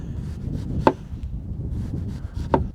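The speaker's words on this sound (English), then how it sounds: "Really thin rounds of onion." Knife slicing an onion into thin rounds on a board outdoors in the cold, two sharp separate cuts standing out over a steady low rumble, no talk.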